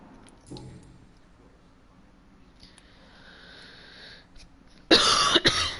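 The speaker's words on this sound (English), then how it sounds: "I did not mean to just cough in everybody's ear." A person gives a sudden, loud close-up cough as a harsh double burst near the end, following several seconds of quiet room tone with faint rustling.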